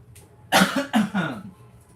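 Two or three harsh throat-clearing coughs in quick succession, close and fairly loud, followed by a brief quiet rasp.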